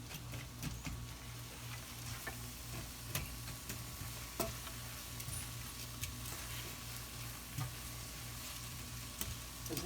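Frozen peas hit a pan of sizzling zucchini noodle carbonara sauce, a steady close crackle and hiss with light stirring scrapes and small pops scattered throughout.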